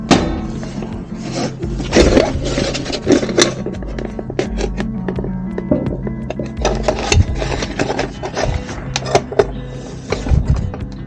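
Two screws are tightened on a solar water heater station, with close, repeated scraping and ratcheting tool noises and knocks on metal fittings, loud and busy throughout without speech.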